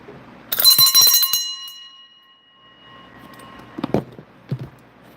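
A bell rung during a psychic reading, struck once with a bright metallic ring that decays over about two seconds, followed by a few soft knocks and handling sounds.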